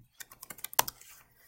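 A computer keyboard is tapped in a quick burst of about eight light keystrokes, close and clear, with one sharper strike in the middle, ending in quiet.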